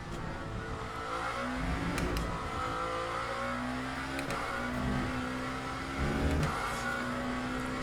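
Lamborghini hypercar engine in Le Mans Ultimate revving and rising through gears, with repeated surges and brief shift breaks on a loud, continuous engine tone, no talking over it.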